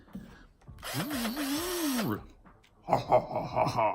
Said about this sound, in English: we'll use this bad boy and we'll drill right through that hole